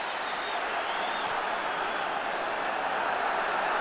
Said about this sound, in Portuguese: Aplaudido ali pelo esforço.